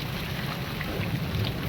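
Heavy rain mixed with falling hail in the wild near a mountain temple, a steady broadband hiss and patter with low rumbling, even and unbroken.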